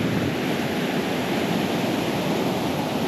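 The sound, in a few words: beach with ocean waves and surf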